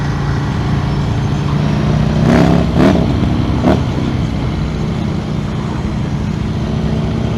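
A 2016 Harley-Davidson Softail Slim S rumbles on a ride, its exhaust pipes giving a steady low drone that swells in a few brief throttle bursts midway before settling back to a loud, even cruise.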